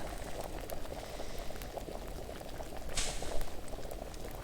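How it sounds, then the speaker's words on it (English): Liquid boiling in an alchemy pot in a video game, a steady dense bubbling texture that runs throughout at low level, with a brief brighter hiss partway through. "You see those bubbles going? It's boiling"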